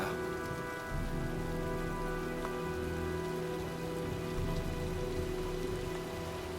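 Steady rain from the video game Heavy Rain patters on a surface at low volume, a constant even hiss with faint tonal hum underneath and no voices.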